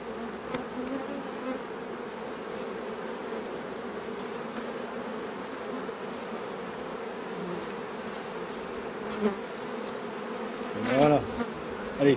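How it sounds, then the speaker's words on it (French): Honeybees hum steadily around a hive frame during hive inspection, a dense close buzzing with a few louder passes near the end and faint background clicks. "je vais secouer les abeilles dans la ruche"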